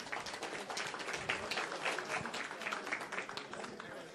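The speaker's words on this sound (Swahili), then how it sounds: "Makofi tafadhali." An audience at a Shabana FC fundraising event claps in moderate, scattered applause for a few seconds as a dignitary receives the club's official jersey.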